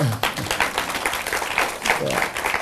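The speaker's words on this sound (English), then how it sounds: "You deserve some applause for that." A studio audience at a live television business mentorship program breaks into sustained, dense applause, many hands clapping together at close range with no talking over it.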